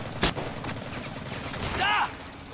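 Gunfire in the World War II shooter Medal of Honor: a sharp loud shot near the start, a few lighter shots, then another burst followed by a ringing ricochet-like whine, with a steady game background throughout.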